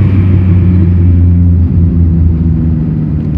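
A Volkswagen Passat engine rumbles loudly and close by with a deep, steady droning idle that holds for the whole stretch, with no other sounds over it.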